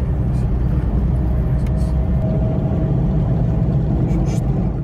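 A jeep drives along a night street in Erfoud, Morocco, carrying a tour group toward the Sahara, its engine and road noise a dense, steady rumble heard from inside, with faint voices underneath.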